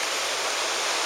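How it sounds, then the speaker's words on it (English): A small stream flowing out of Kolob Reservoir on Kolob Mountain in Zion, heard as a constant close rushing wash of moving water, unbroken and without voices. "This little stream comes out of the Kolob Reservoir on Kolob Mountain."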